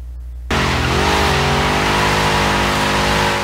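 A 1967 Ford Falcon XR GT with its factory motor does a burnout in Forza Horizon 3: the engine suddenly roars to high revs while tires squeal loudly and continuously, holding steady and close.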